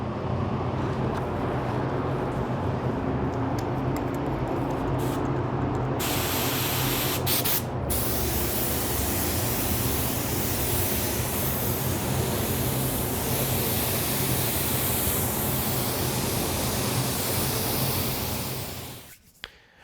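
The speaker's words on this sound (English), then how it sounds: "We're going to spray our clear coat." A spray gun applying automotive clear coat hisses continuously for nearly twenty seconds, a steady, loud rush of air and mist that cuts off abruptly at the end.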